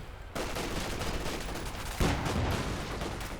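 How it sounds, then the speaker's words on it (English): A Puma armored car fires in a World War II real-time strategy battle, a steady dense roar of rapid gunfire and explosions with a sharper burst about two seconds in, loud and continuous. "Puma firing away in there"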